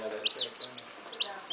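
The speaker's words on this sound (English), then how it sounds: "So these are my beautiful sisiw. Chicks." Baby chicks peeping in quick, high, bright chirps, several in a row over about a second and a half, close by with a faint low background hum.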